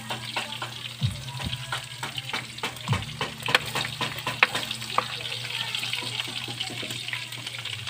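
Garlic sizzles in hot oil in a pan, a steady close crackle with scattered pops and occasional scraping stirs, no voices.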